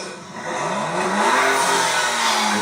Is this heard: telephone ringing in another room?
no